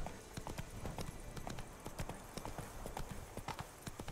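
Horse hooves canter in the video game Witcher 3, a quick rhythmic clip-clop of repeated hoofbeats, fairly close and steady, against a faint background hiss.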